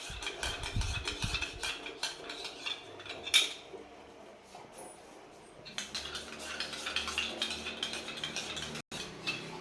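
A spoon clinks and scrapes against a vessel while coffee is mixed with boiling milk in a home kitchen. Rapid metallic clatter comes close up, then a quieter stretch, then more stirring and rattling.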